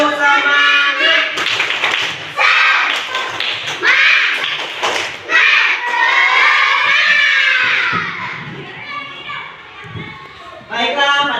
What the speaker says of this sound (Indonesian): mari kita awali pembelajaran kita pada pagi hari ini dengan tepuk semangat